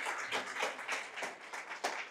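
A church congregation claps in praise, a dense wash of hands with a few louder rhythmic bursts, steady and moderately near, with no voices over it.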